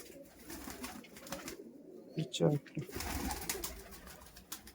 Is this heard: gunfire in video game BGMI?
no